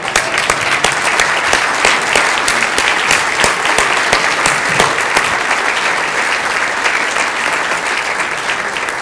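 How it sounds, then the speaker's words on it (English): A dinner audience at a benefit gala gives a sustained round of applause, dense and even clapping from many hands that holds steady before easing slightly toward the end. "join me in giving them another round of applause"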